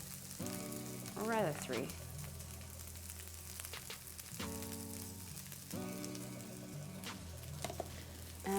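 Rice frying in a pan over low heat, a soft continuous sizzle and crackle with occasional scraping stir sounds, while a voice speaks briefly nearby and the pan noise carries on underneath.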